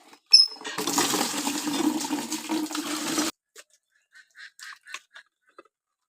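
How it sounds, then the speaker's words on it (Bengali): Water poured onto the dry base of mango trees in a village yard gives a steady, loud splashing gush for about three seconds, then stops, followed by a few faint scattered drips and taps. "আমি এখন আমের গাছগুলোতে একটু জল দেবো"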